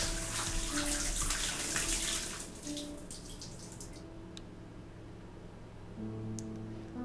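Water splashes from a bucket onto flowers in the video game Homesick, a steady gushing pour for a few seconds that then thins to faint trickles and drips over a quiet background drone.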